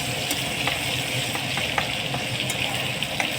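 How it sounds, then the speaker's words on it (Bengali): Garlic sizzles and fries in hot oil in a wok, a steady, close crackling hiss with occasional stirring clicks. "এর মধ্যে নিয়ে নিলাম একটু রসুন"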